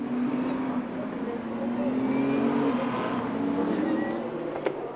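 Race cars accelerate at Spa-Francorchamps in a Michelin Le Mans Cup restart, LMP3 and GT3 machines, engines rising in pitch as they build speed, loud and steady with a commentator talking over them.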